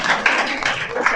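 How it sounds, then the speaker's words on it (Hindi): An audience claps loudly at a teacher-honouring ceremony in India, a dense wash of applause sustained for about a second. "सभी जोरदार ताली पर लीजिए।"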